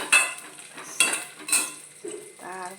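Potato and onion frying in a pan, with a spatula clanking and scraping against the metal three or four times over a soft sizzle, close and clear.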